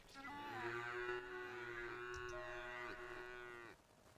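Craftopia game cow mooing in one long, wavering drawn-out call with a few pitch bends. The call is loud and close, and no one talks.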